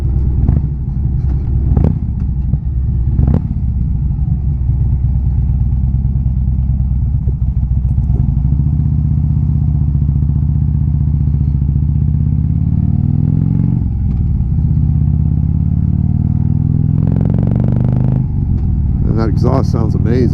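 Harley-Davidson motorcycle engine rumbling while riding through East Bay canyon roads, a loud, steady low throb with rising and falling revs and some gear changes, with wind noise and someone talking over it.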